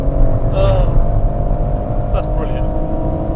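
A loud, steady engine drone with a rising tone from a BMW M140i and a Ford Focus RS accelerating hard side by side along the Lavant Straight at Goodwood, from 66 to over 130 mph, while someone talks over it.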